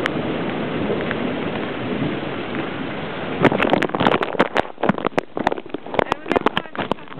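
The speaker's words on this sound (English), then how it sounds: "Just really big thunder and lightning." Steady heavy rain hisses throughout a thunderstorm, then a rapid burst of sharp, loud crackling thunder strikes cuts through the downpour in the second half.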